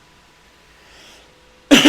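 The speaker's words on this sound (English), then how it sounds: "Goodness, I got the coughs today, don't I?" A single sharp cough near the mic from a man playing online chess, bursting out at the very end after quiet room hiss.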